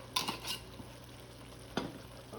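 A prawn masala curry fries quietly in a karahi with ground garam masala, a faint steady sizzle broken by a few clinks and scrapes of a spoon stirring, no voices.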